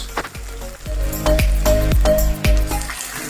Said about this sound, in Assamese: এতিয়া গোটেই মছলাখিনি ভালকৈ মিহলাই ভাজি ল'ম।